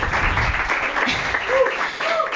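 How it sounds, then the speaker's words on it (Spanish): A church congregation at a Christian sermon breaks into steady, close applause for the Lord, a dense wash of clapping lasting the whole moment, with a voice speaking over it. "¿cuántos le dan un aplauso al Señor?"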